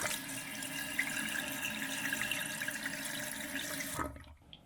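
Water runs steadily into a toilet tank after the supply is turned back on, filling with a constant rushing hiss until the flow cuts off abruptly near the end.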